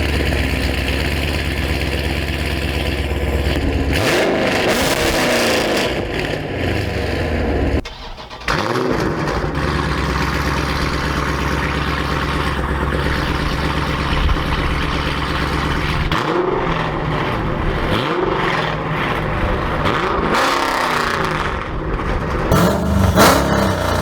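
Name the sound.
Dodge Challenger ScatPack exhaust with catless mid pipes revving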